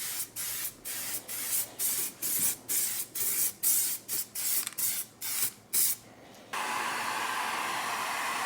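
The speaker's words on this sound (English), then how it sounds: "we'll give it some bumper spray" MTN textured bumper paint sprays from an aerosol can during an E46 330ci rear brake restoration: about a dozen short, sharp hissing bursts in a steady rhythm, then one continuous hiss.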